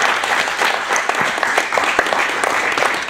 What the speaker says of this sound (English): let's give a round of applause to our advisors